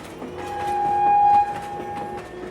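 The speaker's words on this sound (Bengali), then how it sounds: "ঝড়ের গতিতে ছুটে আসছে একটি ট্রেন" A train rushes along a railway line near Muragachha, its wheels rumbling and clattering steadily while a loud, sustained horn blast sounds over the noise before cutting off.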